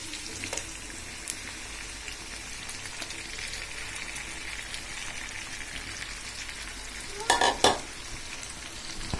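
Sliced bitter gourd fries with turmeric and salt, a steady sizzling hiss broken by stirring clatters and a louder burst of crackling near the end, close and without talk.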